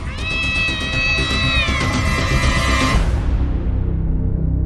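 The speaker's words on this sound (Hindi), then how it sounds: "बिल्ली रो रही है और बिल्ली का रोना अशुभ होता है।" A cat crying and meowing in a long, wavering wail with strong harmonics, loud and close, over a dense layer of dramatic background music that continues after the cry fades out.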